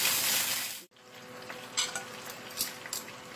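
Chicken sizzles in a hot pan while grilling, a soft steady frying hiss broken by a short pause, then light scraping and clinks as the piece is turned over.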